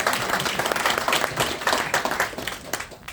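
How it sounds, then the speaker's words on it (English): A gathering at a scholarship awards event bursts into applause for a committee member, a brief round of scattered claps that fades toward the end. "Can everybody give Herb a round of applause, because he was on that committee as well."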